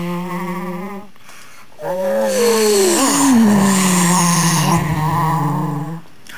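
A voice imitates two rally cars coming into a corner: rising and falling engine whines, a brief pause, then a louder overlapping roar with squealing slides, close and alone without speech.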